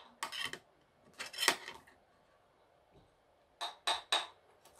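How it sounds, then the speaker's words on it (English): A spoon works at a can of baked beans, giving sharp metallic scrapes and clinks in short close bursts: two at first, then three quick ones after a pause, in a quiet room. "an open can of beans opened with a spoon"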